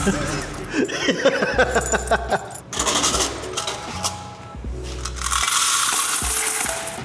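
Coins clatter and jingle as arcade machines are emptied into a bucket, with rattling metallic bursts and rummaging that swells into a dense, loud pour near the end.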